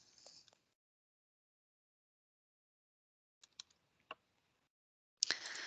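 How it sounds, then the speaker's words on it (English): Scattered computer keyboard keystrokes as a health card number is typed in: a few quiet, isolated clicks separated by silence, then a short denser burst of typing at the end. "we will take the person's health card number from their health card and type it in at the top here"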